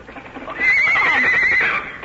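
A horse whinnies loudly and long in an old radio drama scene, with hooves clip-clopping beneath it, close and prominent for most of the two seconds.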